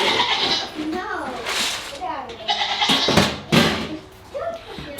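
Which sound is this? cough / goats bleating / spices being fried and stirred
goats bleating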